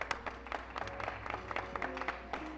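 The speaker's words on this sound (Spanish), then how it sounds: "Un aplauso y un saludo afectuoso para todos ellos." Sparse, faint clapping from a studio audience on a 1984 television nostalgia program, scattered hand claps over a low steady hum and faint tonal background.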